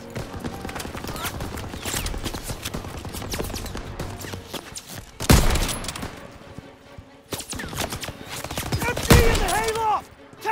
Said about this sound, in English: They're shelling that beach to shit!